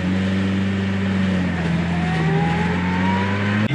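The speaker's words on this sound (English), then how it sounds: "It's got that Mini sound and sort of noise to it. Very distinct Mini noise." A 1965 Mini Cooper S on dry suspension idles steadily nearby, its engine giving a constant low, slightly buzzy hum with a faint rising whine, loud and unbroken throughout.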